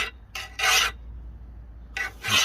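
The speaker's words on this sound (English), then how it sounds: "And then get your file." A metal file rasps across an edging shear blade in a few short strokes, with a pause before the scraping resumes, close and fairly loud.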